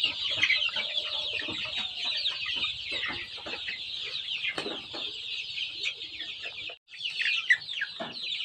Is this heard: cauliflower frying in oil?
no